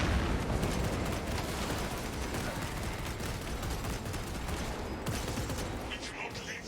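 A grenade explodes in Space Marine 2 amid continuous battle noise, dense rumbling blasts and gunfire that stay loud and unbroken throughout.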